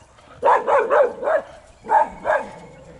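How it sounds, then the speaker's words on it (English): A dog barks in two bursts, four quick barks then a pause and two more, loud and close. "Barking at nothing."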